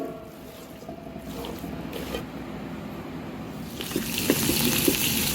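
Water is poured over salted chicken pieces in a bowl to soak, a soft trickle that swells into a louder, steady gushing pour toward the end, heard close up.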